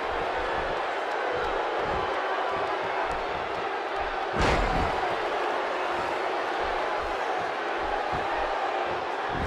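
A video game arena crowd roars continuously through a WWE 2K16 wrestling match, with a dense wash of cheering and a brief loud swell near the middle, as if after a slam or near fall.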